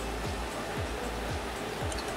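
Transmission oil pours steadily out of a removed valve body on a VW with a hard-shifting transmission, a continuous close rushing splash with no break.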